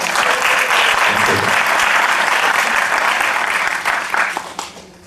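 Dense, loud applause from a film festival audience fills the hall steadily, then thins and fades out near the end.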